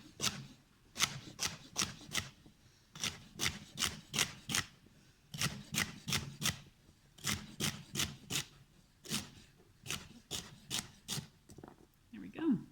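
A knife chops unpeeled vegetables on a board for a slow cooker roast chicken, crisp irregular strikes in quick bursts with short pauses between them, close and clear.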